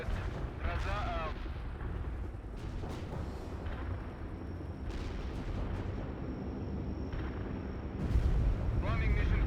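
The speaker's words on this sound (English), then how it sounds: "Carpet bombing requested." Carpet bombing in the World in Conflict war game, with a sustained rumble of distant explosions and booms rolling on, interrupted by brief radio-style voice chatter and sharp electronic chirps.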